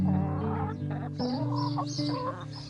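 Farm chickens clucking and murmuring close by, a run of overlapping low clucks and short rising calls from several birds, loud and continuous with no voices.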